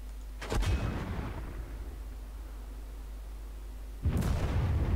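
Two heavy booming shots from a war video game, one near the start and one near the end, each a loud burst with a rumbling tail over a steady low background.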